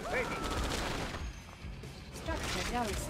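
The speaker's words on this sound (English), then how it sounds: "Shooting my war factory with snipers, dude." Snipers fire at a war factory in the Red Alert 2 strategy game, producing rapid repeated gunshots in a dense battle mix. Chirping unit and interface sounds sit over the top.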